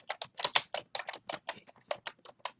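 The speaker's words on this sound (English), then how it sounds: "I just typed this one thing." Rapid keystrokes tapping on a computer keyboard, a quick irregular run of about a dozen close, distinct clicks with short pauses between them.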